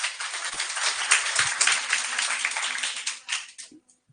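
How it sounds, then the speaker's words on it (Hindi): Students in a classroom clap together for a few seconds, a dense burst of hand claps that thins out and stops abruptly. "ताली बजाना अलाउ नहीं है पागल"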